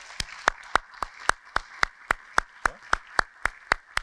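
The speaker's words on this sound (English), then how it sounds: "So one more time, a round of applause for Kristen." At a fire department awards and recognition ceremony, one person claps slowly and evenly, about fifteen close, sharp claps in a regular rhythm with little crowd sound around them.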